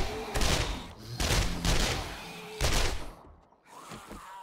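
Repeated bursts of gunfire in 7 Days To Die during a tier 5 infestation at the Mortician's House, loud rattling volleys in three clusters with short gaps, the last tailing off into quieter thuds.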